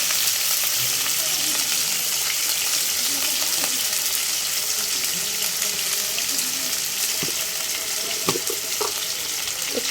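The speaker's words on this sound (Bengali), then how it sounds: "আলুগুলো সুন্দর করে ভাজি, একটু সামান্য লবণের ছিটা দিয়ে দিই" Potatoes frying in oil in a pan with a little salt sprinkled over them, giving a steady close sizzle throughout, with a few soft clinks of a utensil.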